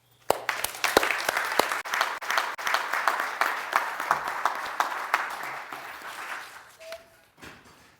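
Audience applause welcoming Wolfgang Lorch at an evening talk, steady clapping from a modest crowd with sharp individual claps standing out, lasting about seven seconds before tapering off.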